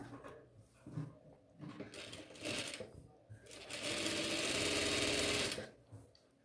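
A sewing machine stitches along a marked neckline on a lined chudithar top, running in several bursts of close rapid stitching, the longest near the end, with short pauses between.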